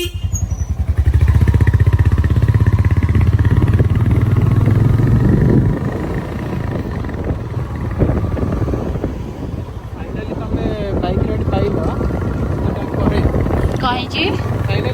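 A motorcycle riding along a road, its engine a loud continuous drone with heavy wind buffeting at first, then a rougher fluctuating rumble; no clear talk over it.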